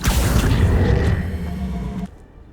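A spell cast in the wizarding video game Hogwarts Legacy: a loud, dense magical burst with a low boom and whooshing shimmer lasting about two seconds, then cutting off into a faint tail.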